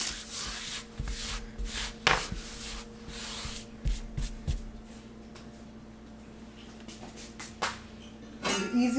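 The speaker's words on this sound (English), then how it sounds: "the easiest way to clean up mess off of the counter with flour is this bench scraper" A bench scraper drags across a kitchen counter to clear flour, producing a series of soft, close scraping and rubbing strokes with light taps, quiet and irregular.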